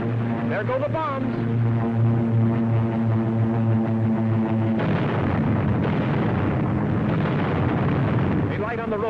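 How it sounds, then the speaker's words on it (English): Heavy rumbling bomb blasts roll on continuously, thick and loud, with a droning aircraft hum beneath and a distant voice faintly audible. "There go the bombs."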